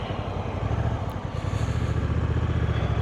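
Honda NT1100 DCT motorcycle engine running steadily while riding, a low continuous drone with throttle rising and a brief shift near the start, close and loud without talk.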